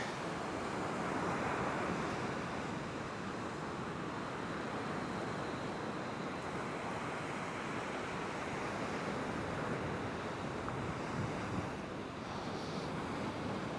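Sea waves wash steadily onto the beach at Sutton on Sea, a continuous soft broadband surf roar with some wind noise, faint and fairly distant, no voices.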